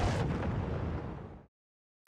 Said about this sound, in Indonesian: Stickland lalu meledakkan granat yang akhirnya meledakkan seluruh tempat tersebut.